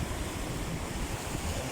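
Ocean waves washing over rocks at high tide, a steady broadband rush of surf with continuous churning water and some wind noise throughout, close and fairly loud.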